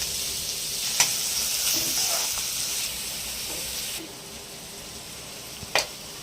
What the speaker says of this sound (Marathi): आलं लसूण पेस्ट आणि कांदा मस्तपैकी जरा तेलात भाजून घ्यायचं आहे.